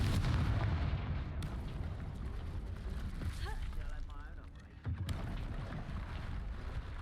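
Confringo fire spell cast in Hogwarts Legacy, a loud burst amid dense, continuous game combat noise with rumbling low end and brief crackling impacts.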